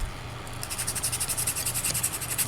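Sandpaper rubs a soldering iron tip in quick, even back-and-forth strokes, a close, hissy scratching that repeats steadily for a couple of seconds over a low hum.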